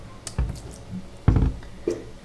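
Bleach poured little by little onto twisted-up clothing for a tie-dye effect, heard as three short, close wet squishes and splashes separated by quiet gaps.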